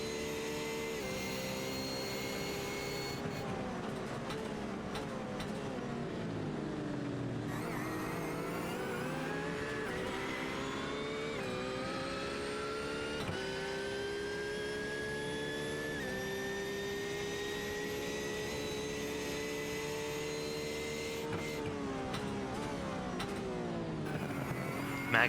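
Onboard view of the SR Technic Porsche race car at the Sebring 12 Hours endurance race, its engine roaring loud and steady, pitch climbing and dropping through gear changes and braking for corners, with no voices.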